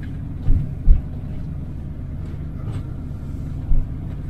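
A van rolls along a road with a steady low rumble of engine and tyres, broken by a few soft thumps, heard from inside the cabin.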